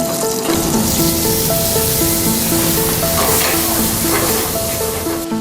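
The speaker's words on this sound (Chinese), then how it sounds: "你看这少年仔炒菜，阁真有架势" Garlic and onion stir-fry in a hot pan in a café kitchen, a loud, continuous sizzle with stirring and scraping, while steady tones play underneath.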